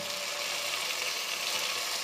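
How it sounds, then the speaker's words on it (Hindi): Eggplant and potatoes fry in a pan for aloo baingan, giving off a dense, even sizzle that stays loud and unbroken throughout. "साथ ही हम इसके बैंगन और आलू को डाल देंगे और फ्राई करेंगे।"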